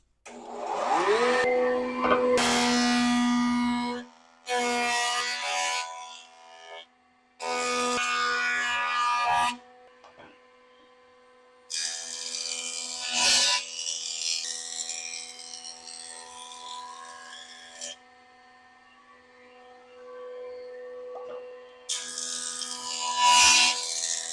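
An old jointer planes a board after a tune-up, its motor spinning up in loud bursts of steady whine broken by pauses, then longer stretches of cutter noise as the wood feeds across, ending in another loud run.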